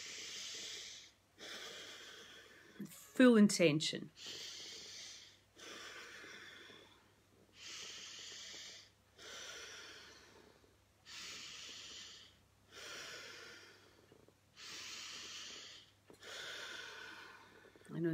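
Slow, deep breathing during a guided breathing exercise: about eight long, evenly paced breaths, each a soft rushing hiss, with a short spoken phrase near the start.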